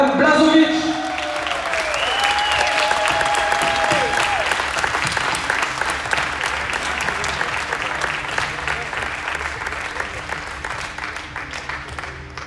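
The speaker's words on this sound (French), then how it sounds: "un dernier tonnerre d'applaudissements pour les vainqueurs du double" A crowd applauds the doubles winners at a Tenball tournament prize ceremony, loud, sustained clapping throughout, with an announcer's amplified voice over it at the start.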